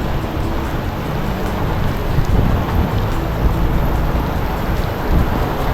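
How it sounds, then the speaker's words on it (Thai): Steady, heavy rain pours down beside a canal during a thunderstorm in a dense continuous hiss, with low rumbling underneath and no voices. "ครับฝนตกแล้ว"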